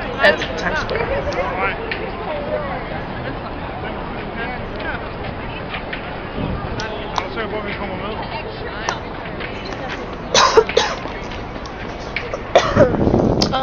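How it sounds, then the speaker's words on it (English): A couple of sharp coughs break out near the end over a steady wash of busy background noise in Times Square, New York City. "I just had to cough"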